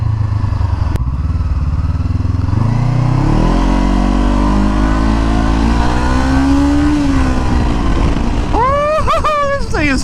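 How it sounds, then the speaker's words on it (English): A motorcycle engine roars loudly and close, revving up through rising pitch with crackling backfires, and a quick rising whine near the end. "Oh, those backfires."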